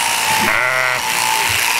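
A sheep bleats at a public shearing demonstration during a village anniversary festival, its wavering call rising loud and close for about half a second amid steady crowd and outdoor background noise.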